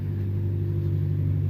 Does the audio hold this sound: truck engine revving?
yes